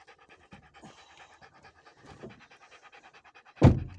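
A dog on a walk pants in a steady, soft rhythm close by, with a louder thump or rustle near the end.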